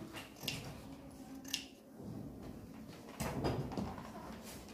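Scissors cut fabric during a draping lesson on a straight skirt, giving a few quiet, separate snips against a soft background.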